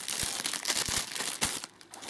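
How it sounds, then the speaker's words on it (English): Small plush toy pulled out of a thin plastic bag, giving close, loud crinkling and rustling with a few sharper crackles, steady for about two seconds before easing off. "I'm gonna put him out of his little plastic bag."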